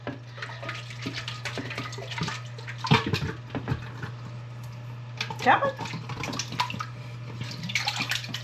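Whey from raw goat's milk yogurt pours and drains through butter muslin, a close, uneven splashing and trickling of liquid with a steady low hum behind, while a person speaks briefly.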